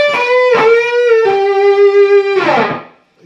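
Electric guitar playing a solo lick: a sustained note with two bends, a held vibrato note, then a slide off, loud and alone.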